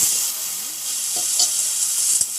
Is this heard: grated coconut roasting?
yes